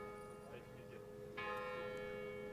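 A church bell strikes once near a Paris archery World Cup compound final, its rich ringing tone sustaining and fading over a steady background hum of an earlier stroke, with no speech over it.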